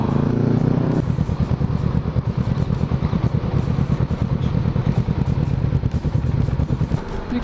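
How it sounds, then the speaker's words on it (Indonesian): Motorcycle riding along a narrow road, its engine a steady close rumble with clattering, rattly texture throughout, nothing else breaking through. "Kali pertama aku naik motor macam ni."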